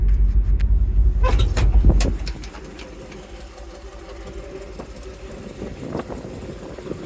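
A Chevrolet C10 truck's stock Gen V engine rumbles loudly through dual 2.5-inch exhaust with Magnaflow mufflers at first, then drops to a lower, steady idle with intermittent clicks and knocks, close by.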